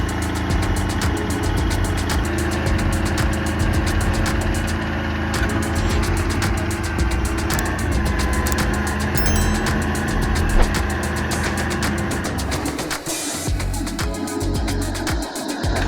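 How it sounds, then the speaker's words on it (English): A bulldozer engine roars steadily while stuck in deep mud, a loud continuous low rumble that runs unbroken, with a rough shift in the last few seconds. "the engine roared in despair"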